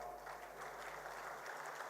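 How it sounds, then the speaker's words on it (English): An audience at a corporate foundation day celebration claps steadily after a musical performance, a dense, continuous wash of applause at moderate level throughout, with no speech. "Let's give a big round of applause"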